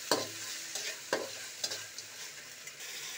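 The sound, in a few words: crabs frying in a pan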